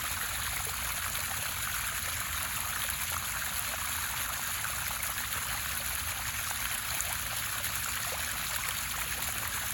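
Pool filter backwash water flows steadily in a constant, faint rushing trickle, with no change in level throughout.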